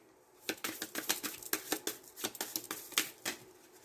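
Quick rustling snaps and riffles of cards being shuffled, several short bursts in an uneven rhythm, close and fairly quiet.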